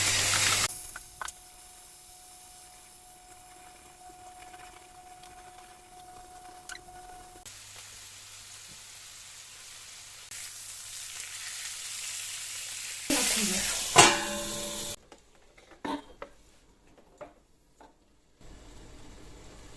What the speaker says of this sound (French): j'ai mis à cuire sur feu vif